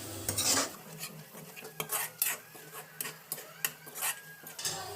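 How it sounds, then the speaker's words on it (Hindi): Spoon scraping and clinking against a cooking pan while fish curry is stirred, a series of irregular metallic scrapes and taps heard close and moderately quiet. "अब मिलाबो अच्छा से।"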